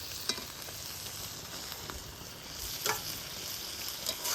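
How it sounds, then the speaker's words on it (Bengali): Steady sizzling from a frying pan of river-mussel curry with freshly added tomato, broken by a few sharp scraping strokes as a spoon stirs the pan, close and moderately loud with no one talking. "এবার টমেটো দেওয়ার পরেও ভালো করে নাড়ি চাড়িয়ে নেব, টমেটোলা যাতে গলি যায়।"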